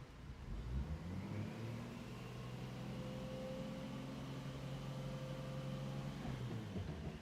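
A Toyota Supra with a BorgWarner turbo on a dyno, engine climbing steadily through the gears in a long sustained rev with rising whine, then dropping off near the end, loud and close with no talk.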